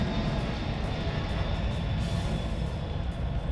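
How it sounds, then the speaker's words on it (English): Large jet aircraft flying over from a nearby military airport, a steady, loud broadband roar that holds unchanged throughout with no talking. "There's like a military airport relatively close, so we get large jets"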